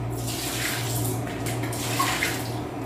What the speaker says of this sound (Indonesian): Siram air